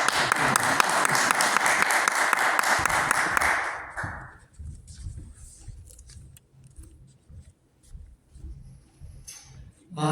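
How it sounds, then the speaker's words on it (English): An audience claps for guest speakers in a talk about prisons, a dense burst of many hands for about four seconds that stops abruptly, leaving quiet room sounds and faint shuffling. "Give them a bit of a clap."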